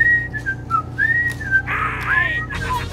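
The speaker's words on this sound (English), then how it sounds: "No, but I whistle a lot." Melodic whistling with sliding, wavering pitches, fairly close and clear, carrying a loose tune over a low steady hum.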